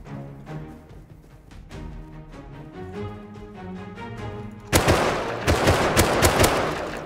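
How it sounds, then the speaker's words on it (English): Gunfire in the survival game Rust: a dense burst of rapid, loud shots breaks in after a stretch of music, continuing as a sustained volley of close cracks to the end. "It's a fair amount of gunfire."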